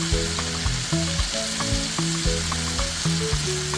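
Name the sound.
soy sauce poured into sizzling spaghetti stir fry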